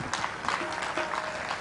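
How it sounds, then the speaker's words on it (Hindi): A Hindi Academy audience in Delhi applauds performers as they take the stage at a cultural music event: steady, dense clapping that fills the whole moment without letup. "मैं चाहूँगा कि जो कलाकार मंच पर पधार चुके हैं उनके लिए आप जोरदार तालियां बजाएं"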